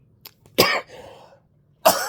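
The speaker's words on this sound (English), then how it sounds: "horrible coughing." A person sick with influenza lets out harsh coughs: a short hacking burst, a longer rasping cough trailing off, then another forceful cough, close and loud in a quiet room.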